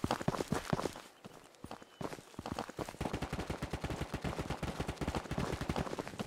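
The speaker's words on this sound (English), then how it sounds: "I can hear a gunfight" Rapid, dense gunfire from a firefight in the VR shooter Ghosts of Tabor, starting after a quieter stretch and then running as a fast, steady stream of sharp cracks and shots at moderate distance.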